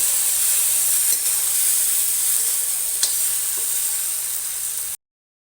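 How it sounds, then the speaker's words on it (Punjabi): Chopped tomatoes frying with onion in a pan for a Punjabi potato and brinjal dish, a steady close hiss and sizzle with a few small pops, cutting off abruptly at the end. "ਹੁਣ ਇਸ ਵਿੱਚ ਕੱਟੇ ਹੋਏ ਟਮਾਟਰ ਪਾਵਾਂਗੇ ਤੇ ਇਸ ਨੂੰ ਵੀ ਸੌਫਟ ਹੋਣ ਤੱਕ ਭੁੰਨਾਂਗੇ"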